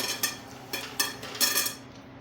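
Faint clinks and scrapes against a hard bowl come in irregular bursts, a dog eating from a dish nearby.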